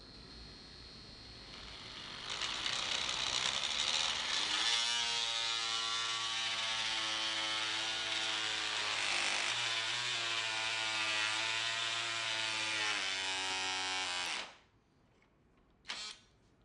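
A DeWalt 20V MAX cordless oscillating tool cuts through wood with a loud, steady buzzing whine that builds up and holds for about twelve seconds, then stops abruptly, followed by a brief final burst.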